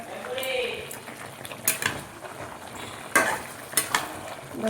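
Spiced meat sautéing in a pan for a Bengali kosha curry, with a soft sizzle and a spoon scraping and clattering against the pan in several sharp strokes, up close.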